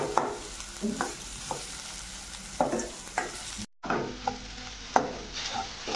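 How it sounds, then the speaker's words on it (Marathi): Tomatoes cooking in a pan for a sprouted green moong usal, with a steady sizzle of frying under repeated scraping strokes of a spoon stirring, close and fairly loud with a brief gap partway through. "टोमॅटोही आपल्याला याच्यामध्ये छान शिजू द्यायचं आहे."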